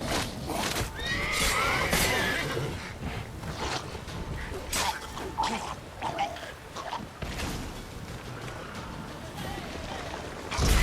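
Roach, a horse in The Witcher 3 video game, gallops with steady drumming hoofbeats and snorts, with a whinny early on and game ambience around it. The sound is close and continuous, with scattered game noises layered over it.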